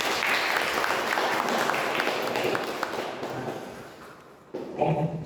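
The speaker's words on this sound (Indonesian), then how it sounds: "Beri tepuk tangan dulu" An audience applauding at a teaching session, a dense wash of clapping that fades out after a few seconds before a brief bump of louder handling or movement.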